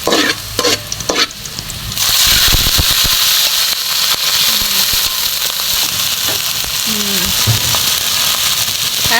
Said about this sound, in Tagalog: ginigisa ko na po yung bawang at sibuyas